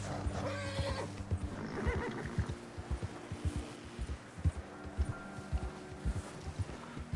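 A horse in the video game Red Dead Redemption 2 gives a loud whinny at the start, followed by a steady rhythm of hoof clip-clops, with no talking.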